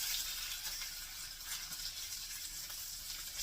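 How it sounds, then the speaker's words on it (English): Bacon fries in a pan with a steady, bright, hissing sizzle and faint crackles, constant and close, with no talking. "I'm just going to turn this bacon a little bit."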